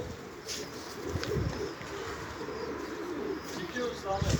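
Pigeons cooing close by outdoors, soft repeated throaty coos over a steady background hum, with people talking faintly nearby.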